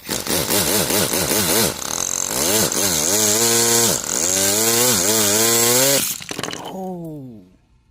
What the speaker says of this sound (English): Two-stroke sound.